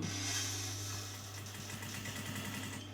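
A sewing machine stitches a sleeve tube, its motor giving a steady, close, continuous hum with a slight rise at the start and no pauses.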